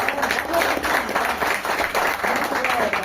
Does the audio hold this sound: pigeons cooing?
no